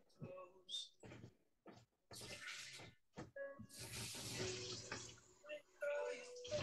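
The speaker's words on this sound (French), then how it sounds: "mon petit bol, je vais changer l'eau." Water is emptied and refilled in a small bowl, heard as close splashing, pouring and clinks in short separate bursts with quiet gaps between them, and someone talks softly in French in between.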